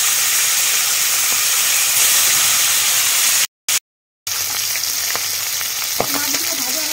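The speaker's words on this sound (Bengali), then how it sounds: "এদিকে আমার তেলও গরম হয়ে গেছে, মাথাগুলো ছেড়ে দাও।" Tengra fish heads drop into hot oil and fry with a steady, loud sizzling hiss, broken by a short silent gap midway, then resume with faint scrapes and clinks.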